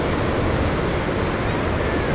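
Ocean surf rolls in at Huntington Beach in California, a steady, dense wash of breaking waves heard up close and continuously, with wind buffeting the microphone throughout and no voices.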